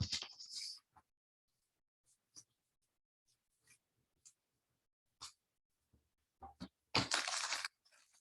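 Trading card booster pack being torn open, scattered faint crinkles and rips closing in a loud burst of foil tearing near the end, close and with no talk.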